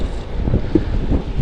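Wind gusting outdoors beside an electric folding bike, buffeting the microphone with loud, low rumbling bursts that rise and fall throughout, with no voices.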